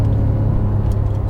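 A Porsche 911 GT3 (991) on a race track during a high-performance driving session gives a short, close, steady engine rumble as the driver drops from fourth to third gear.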